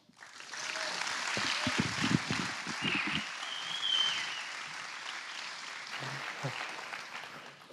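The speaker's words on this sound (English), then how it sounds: "Please give a huge round of applause for Trevor Taylor." Audience applause at an evening school event, steady clapping that builds and holds for several seconds before thinning out, fairly distant in a hall.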